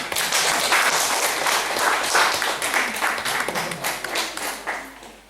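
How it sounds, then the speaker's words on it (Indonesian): Audience clapping at a school farewell for a retiring junior high teacher, a loud, sustained burst of many hands with individual claps standing out, tapering and slowing toward the end. "Kasih tepuk tangan."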